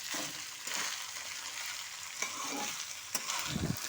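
Cabbage fried rice being stirred and tossed in a hot pan, a steady close sizzle with scraping spatula strokes recurring throughout, no voices.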